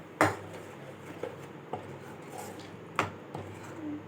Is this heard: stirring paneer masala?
yes